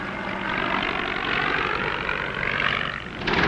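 An old Spad, a small WWI fighter biplane with a powerful engine, flies past with a steady loud propeller drone that holds throughout, dips briefly near the end, then swells again.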